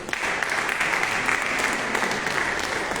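Congregation applauding during a Saturday prayer service for the sick at a Lourdes chapel, a dense, steady burst of many hands clapping together, fairly loud and sustained throughout.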